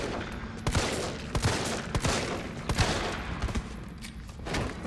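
Rapid bursts of gunfire from Resident Evil 3, played on PC at Hardcore difficulty, crack out in a dense volley of shots with short gaps, loud and close, with no talking.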